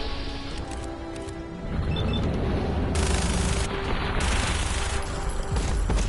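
Gunfire in Fallout 4, dense rapid bursts of shots and booms that start abruptly and keep going loud, with heavier volleys layered in near the middle and end.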